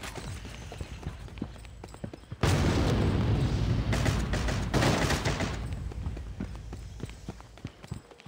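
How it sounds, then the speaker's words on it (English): A flashbang grenade goes off in Critical Strike with a sudden loud, broad blast that lingers as a dense ringing wash for several seconds before tapering off, amid scattered clicks and gunfire. "Flashbang."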